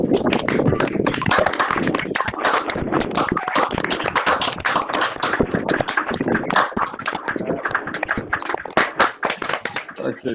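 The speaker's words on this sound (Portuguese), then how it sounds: "dessemos uma salva de palmas para a professora Vera" A group applauds professor Vera during an online webinar, with dense, continuous clapping from many participants' open microphones, sharp and close throughout, thinning slightly toward the end.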